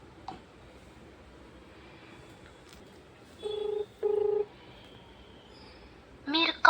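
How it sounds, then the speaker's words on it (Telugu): A mobile phone call connects with a few faint keypad-like beeps followed by two steady ringback tone bursts and another tone at the end, under a quiet room hiss with a brief voice at the close. "మా తమ్మునికి ఫోన్ అయితే చేస్తున్నా"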